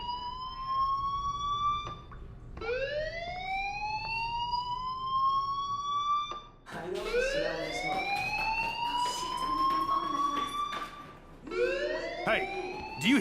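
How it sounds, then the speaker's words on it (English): A school fire alarm in the video game Life Is Strange sounds as a repeating rising electronic wail, several sweeping tones in a row with brief gaps, loud and close throughout. "Hey, do you hear that fire alarm?"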